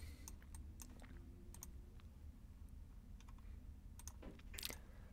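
Quiet, scattered typing on a computer keyboard in a lecture setting: irregular clusters of soft key clicks over a low room hum, with no one speaking.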